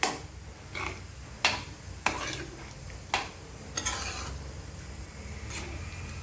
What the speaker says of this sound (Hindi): अब इसी के अंदर हम डाल देते हैं जो हमने मटर को उबाल के रखा था उन्हें, और अच्छे से हम मसालों के साथ में इसे मिला लेते हैं।